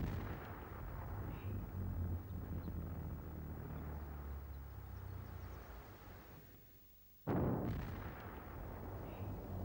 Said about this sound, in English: lining them with plastique explosive so they would crack open and burn